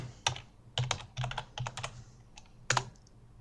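Typing on a computer keyboard while entering text into a spreadsheet: several separate bursts of quick, crisp key clicks with short pauses between them, close and fairly quiet, with no talking.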